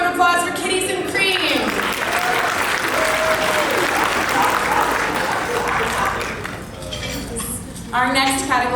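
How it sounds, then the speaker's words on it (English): An award-ceremony audience at a Nanaimo business awards gala applauds the winner with loud, sustained clapping and a few cheers for several seconds, fading as a voice begins speaking at the end. "big round of applause for Kitties and Cream"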